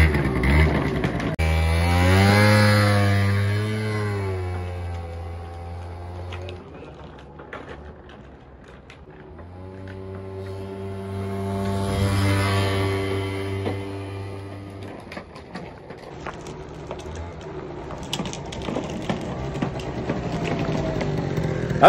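A 2017 Nitro scooter in poor condition revs its small two-stroke engine loudly and close, with two long rising and falling revs and a buzzing idle in between.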